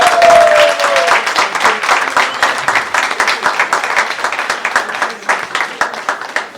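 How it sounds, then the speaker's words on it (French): An audience claps and cheers for a singing group at an Easter praise evening, dense and loud at first and then thinning into scattered, rhythmic clapping, with a brief whistle near the start. "Est-ce qu'on peut acclamer pour nos sœurs"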